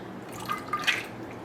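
Keto cocktail poured over an ice cube in a glass, heard as a faint short trickle with a few small drips and clinks against a quiet room.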